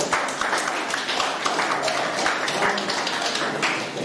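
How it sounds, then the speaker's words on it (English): Workshop attendees give a round of applause, a dense, steady patter of many hands clapping that fills the room at moderate loudness, with faint voices mixed in. "Give them a round of applause"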